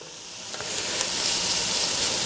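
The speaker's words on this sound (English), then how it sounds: "Most people add garlic first. I add it second because I want to take the heat away from the pan." Garlic sizzling in a hot pan with sauce for a ragu, a steady close hiss and crackle that swells slightly and holds, no voices.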